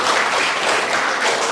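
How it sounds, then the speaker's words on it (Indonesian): Steady, dense applause from an audience at an internship program presentation session, loud and continuous throughout with no talk. "tepuk tangan dulu dong"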